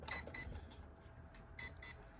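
Hobbywing electronic speed controller for an RC model beeping as it powers up, a few short high-pitched electronic tones in separate bursts, fairly faint and close, with no talking.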